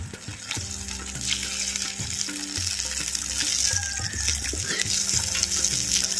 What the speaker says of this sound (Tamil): சேர்த்த காலிஃப்ளவர் சிக்ஸ்டி ஃபைவ் அப்படியே நம்ம சேர்த்த மசாலாவில் லைட்டாக அப்படி கிண்டி விடுறோம்